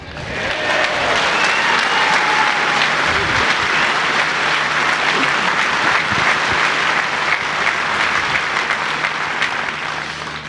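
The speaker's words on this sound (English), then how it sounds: "Thank you for your applause." Sustained audience applause at a Nigel Farage political rally in Fylde, a dense, even wash of clapping from a large crowd that holds steady for about ten seconds without a break.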